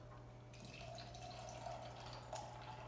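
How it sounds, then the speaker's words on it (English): A sparkling lime, wolfberry and black pepper drink is poured into a glass, giving a soft, faint trickle and splash of liquid over a low background hum. "We're gonna fill it with Young Living Zing, which is lime, wolfberry, black pepper, sparkling beverage."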